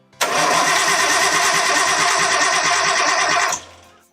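A big-turbo Nissan RB engine cranks steadily for about three seconds without catching, a loud, continuous whirring starter drone that cuts off abruptly.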